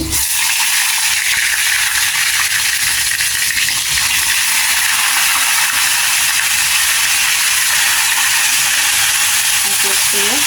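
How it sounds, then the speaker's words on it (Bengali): Chicken pieces tipped into hot oil in a karai set up a loud, steady sizzle and hiss of frying that fills the whole stretch, with a faint voice in the background. "এখন এর ভিতরে আমি মুরগিটা ঢেলে দিচ্ছি"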